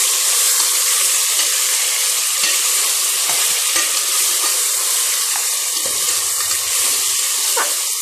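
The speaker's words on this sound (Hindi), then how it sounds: "मैं इसमें डालूंगी छिलका कटे हुए 2 अदद टमाटर गोलाई में कटे हुए, एंड दोबारा आपने इसे फिर भूनना है" Sliced tomatoes fry with meat and potatoes in a pot for degi aloo gosht, producing a loud, continuous hissing sizzle with occasional soft scrapes and taps.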